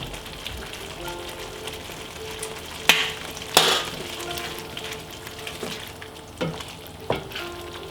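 A sauce bubbles and sizzles steadily in a pan as it boils and thickens, with a soft crackling hiss, a few sharp clinks and taps, and no talking.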